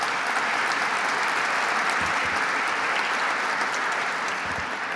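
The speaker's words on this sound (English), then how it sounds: "Let's give Stephen Rubenstein a big round of applause." Audience applause for Stephen Rubenstein at an Association for a Better New York event with Governor Cuomo: dense, steady clapping from a large crowd, sustained and even throughout, with no voices on top.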